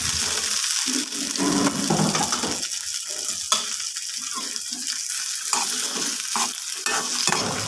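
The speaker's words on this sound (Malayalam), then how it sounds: "ഈ ചക്കപ്പൊരു ഇടയ്ക്കിടയ്ക്കൊന്ന് ഇളക്കി കൊടുക്കണം" Boiled jackfruit seeds fry in hot oil while being stirred, producing a bright continuous sizzle broken by repeated scraping and clattering strokes of a spoon against the pan.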